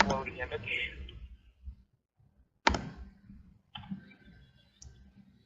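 Computer mouse clicks while uploading an image on a website: one sharp, close click stands out, with softer ones before and after, amid a person talking.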